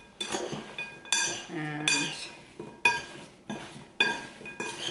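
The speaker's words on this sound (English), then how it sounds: "Give it a quick stir" A spoon clinks and scrapes against a bowl while stirring apple cranberry pie filling, in several quick bursts of metallic clatter with brief pauses between, close and clear; a voice says a word briefly.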